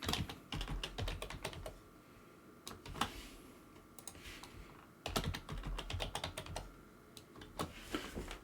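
Someone types a password on a computer keyboard in close-up, in quick bursts of key clicks with a short pause in the middle. The setting is quiet and no one talks.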